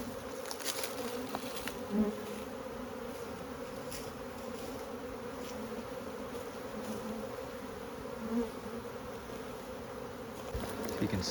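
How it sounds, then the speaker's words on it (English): Honey bees buzzing at a hive entrance during a transfer of nucs and swarms into 10-frame boxes: a steady, close, droning hum of many bees with a few louder passes near the end. "You can see all the bees are kind of figuring it out, trying to find their way."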